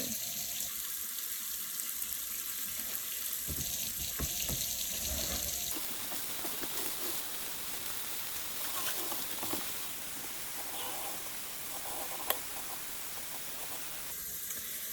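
Water pours steadily into a pan beside wool for washing, a continuous splashing gush lasting throughout with a faint clink near the end and no talk.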